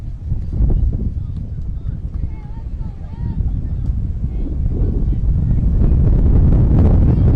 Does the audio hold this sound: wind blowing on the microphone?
yes